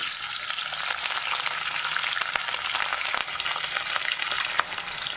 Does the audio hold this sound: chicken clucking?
no